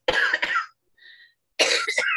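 A voice speaks, pauses for a single short, soft cough, then carries on talking.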